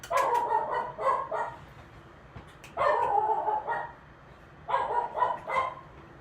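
A dog barks loudly indoors in three bursts of rapid repeated barks, with short pauses between each burst and no talking.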